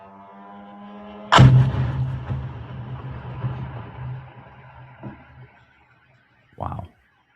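A sudden heavy blast booms out after a low hum as an attack drone strikes a logistics warehouse in Russia, its rumble rolling and fading for several seconds, then a second, shorter thump lands farther off.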